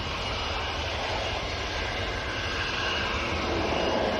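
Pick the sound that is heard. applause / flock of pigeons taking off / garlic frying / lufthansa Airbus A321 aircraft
lufthansa Airbus A321 aircraft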